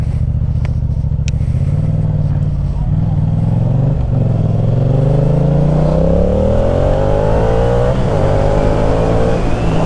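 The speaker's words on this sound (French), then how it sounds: "Je vais laisser passer la voiture." Close, loud motorcycle engine noise on a road with a car going by, the engine tone rising and falling through gear changes and revs, with a brief voice over the noise.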